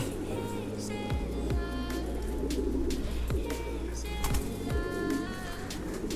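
Pigeons coo in low, continuous murmurs under a busy background of clicks and faint ringing tones, with a couple of sharper knocks breaking through, the cooing staying steady throughout.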